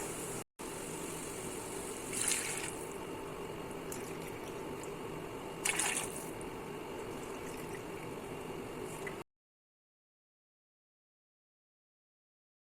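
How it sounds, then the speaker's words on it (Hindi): Water poured into a cooking pot while making bhuna dahi gosht, a yogurt mutton curry: a steady, quiet rushing pour lasting several seconds, with two brief louder splashes along the way and no talking. "अब इसमें पानी डालेंगे"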